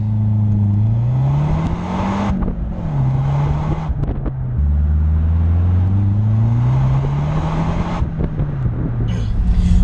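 Engine of a 2013 Mazda 3 MPS heard from inside while driving, a loud continuous drone that rises and falls in pitch through several gear changes and accelerations, with wind and road rumble underneath.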